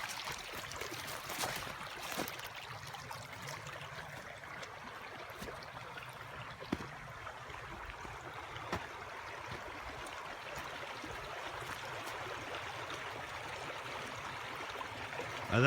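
Water rushes steadily through a blown-out beaver dam in a Texas creek, a continuous low, even wash of flowing and trickling water heard close by with no talk.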